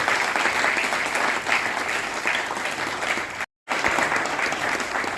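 Sustained, dense applause from a large audience at a Hindi-language convention of a political thought forum, steady and loud with a brief sharp dropout midway before resuming.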